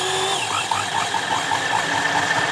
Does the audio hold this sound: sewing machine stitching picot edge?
yes